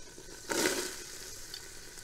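Onions dropped into hot leftover pork fat and oil in a Ninja Foodi, a sudden sizzle burst that settles into a soft, steady frying crackle.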